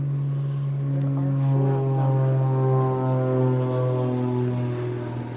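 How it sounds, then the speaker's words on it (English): Four older propeller planes flying in formation pass overhead, a steady droning hum with layered engine tones swelling and fading slightly, moderately distant and alone. "It's the formation planes. I recognize their engine noise."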